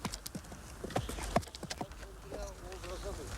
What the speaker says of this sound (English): Horses help winch it out into a large ark.